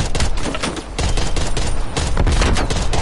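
Dense Call of Duty gunfire, loud rapid overlapping automatic shots and bursts filling the whole stretch without a break.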